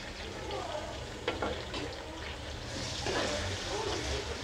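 Minced meat (keema) being browned with lightly browned rice in a pan, a steady soft sizzle with a few brief scraping stirs, fairly quiet and close.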